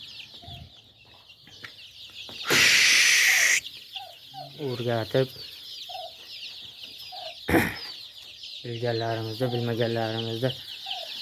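Chickens and young chicks in pens ringed with wire mesh give repeated clucks and short harmonic calls in bursts, close by, with one loud rustling burst of flapping and a person talking briefly in between.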